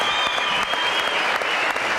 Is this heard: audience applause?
yes